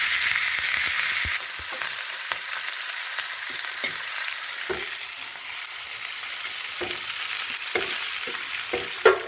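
Roasted gram and coconut fry in a pan with a steady close sizzle, broken by sharp scrapes and knocks of a spoon stirring. No talking.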